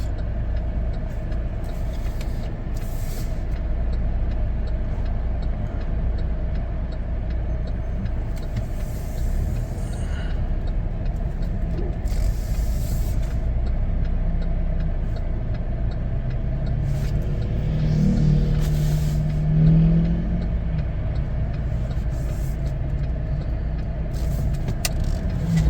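A 2024 Chevrolet Blazer 2LT rolls slowly into a parking lot, a steady low road hum and engine drone carrying throughout, with a brief rise in engine tone near the end as it maneuvers.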